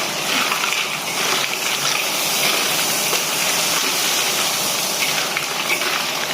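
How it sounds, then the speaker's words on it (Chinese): River snails being stir-fried in a wok for Guangxi-style spicy snails: loud continuous sizzling hiss with scraping, rattling tosses of shells, no talk. "倒入我们准备好的这个田螺， 不断的进行翻炒"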